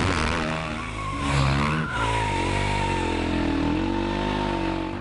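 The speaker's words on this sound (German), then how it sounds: "ich zeige euch heute, wie man einen richtigen Drift hinlegt" Supermoto motorcycle drifting through a corner, the rear tire skidding in a loud, sustained squeal over a revving engine whose pitch rises and falls, close and continuous throughout.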